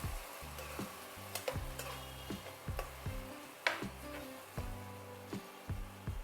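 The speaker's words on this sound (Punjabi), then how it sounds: "ਹੌਲੀ ਹੌਲੀ ਭੁੰਨ ਲਵਾਂਗੇ ਦੇਖੋ ਆਪਣੇ ਪਿਆਜ਼ ਭੁੱਜ ਗਏ" Chopped onions with a ginger, garlic and tomato spice paste sizzle and fry in a pan for besan sabzi, broken by regular scraping stirs and spoon taps against the metal, close and steady with no talking.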